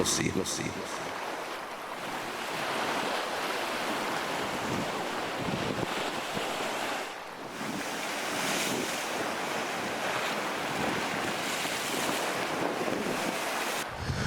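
Strong wind buffets the microphone over steady breaking sea waves along a coast where boat tours are cancelled, a loud continuous roar with surging swells and no speech.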